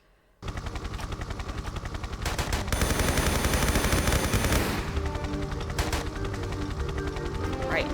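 Sustained, loud automatic gunfire from a stronger weapon in Tomb Raider 3, rapid shots running for several seconds in a dense, continuous burst with rhythmic repeats.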